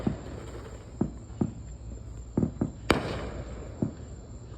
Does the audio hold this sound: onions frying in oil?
no